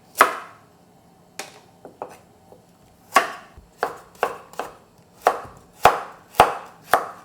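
Knife chopping carrot, onion and other vegetables on a cutting board while a pan heats, a run of sharp, close thuds, sparse at first and then quickening into a steady rhythm.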